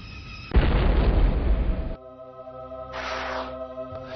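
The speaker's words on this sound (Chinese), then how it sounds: "一声震天响的爆炸声" A loud explosion sound effect: a heavy booming blast that rumbles for about a second and a half, then a tonal ringing decay with a second softer rushing burst, close and dominant with no talk.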